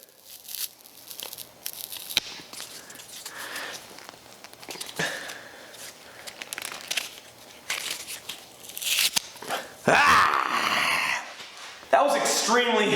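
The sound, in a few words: leather pieces joined only with glue being ripped apart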